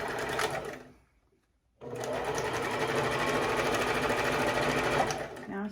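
A sewing machine stitches along the side of a fabric face mask, a brief burst of rapid needle whirring, then a short pause, then a longer steady run of close, busy mechanical stitching.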